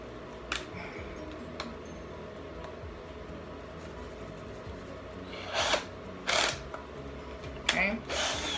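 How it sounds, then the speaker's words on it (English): A drill cuts straight through one side of a PVC pipe in several short, sharp bursts late on, after a stretch of low background noise with a few isolated ticks. "Okay, because that way you just drill right there."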